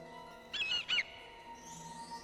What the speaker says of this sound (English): Damn squawky-ass bird.